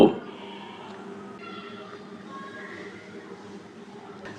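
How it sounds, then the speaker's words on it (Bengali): A moving train plays from a clip in a phone video-editing app, heard as a faint low rumble with a soft humming drone after a brief loud onset at the start. "এখানে দেখতে পাচ্ছেন একটা ট্রেন চলতেছে।"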